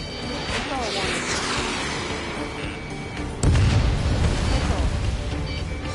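Missile launches and blasts in the Ace Combat 7 jet combat game: a steady rush of engine and whooshing noise, then a heavy booming explosion about halfway through that stays loud and rumbling to the end.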